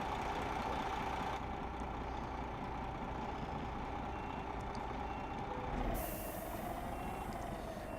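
A truck in Euro Truck Simulator 2 reverses a SuperLink trailer, its steady engine drone running continuously with a brief hiss partway through.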